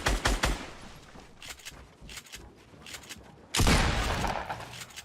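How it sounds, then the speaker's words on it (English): Minigun fire in a video game: several rapid, loud bursts of automatic gunfire broken by short gaps, ending in a long, dense burst. "A minigun."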